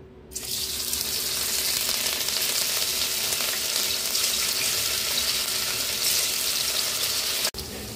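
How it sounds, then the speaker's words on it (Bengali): Cauliflower pieces deep-frying in hot oil in a wok give a loud, steady, close sizzle that holds at a constant level for several seconds, briefly cut near the end. "এখন আমি তেলের মধ্যে প্রথমে ফুলকপিগুলোকে ভেজে নেব।"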